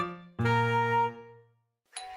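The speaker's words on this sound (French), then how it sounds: "À ce moment, la sonnette d'entrée retentit et Caillou courut pour répondre." A two-tone doorbell chime at a house rings once, a bright higher note falling to a lower ringing note that fades out, followed by the start of another chime near the end.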